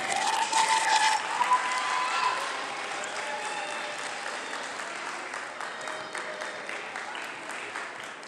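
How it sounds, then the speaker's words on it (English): Audience applause at a school Pan African celebration, with pre-K through first grade children called up; a broad, steady wash of clapping follows a brief louder burst at the start and holds at a moderate level. "Round of applause, please"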